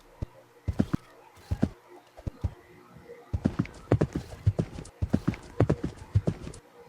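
Horse hooves clip-clop in the Escape the Castle video game, bursts of quick clear hoofbeats at close range, pausing briefly before a longer steady run of steps.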